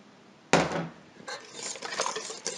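Stirring a yeast mixture for doughnut dough in a bowl, with a sharp utensil knock against the bowl followed by uneven scraping and swishing, close and moderately loud.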